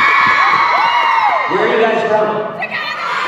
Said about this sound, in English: You can say Chicago, and the section is gonna start fucking cheering.